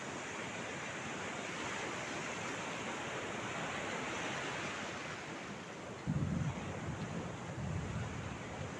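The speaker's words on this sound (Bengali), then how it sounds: "এখানে শুনতে পাচ্ছেন মেঘের গর্জন" A low rumble of thunder swells briefly near the end over constant wind and surf noise at Laboni Beach, Cox's Bazar, under a cloudy sky.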